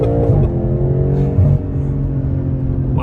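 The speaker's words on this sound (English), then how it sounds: "driving the M8 competition" A BMW M8 Competition on the road, heard from inside: steady low engine rumble with slight shifts in pitch as it accelerates, no voices.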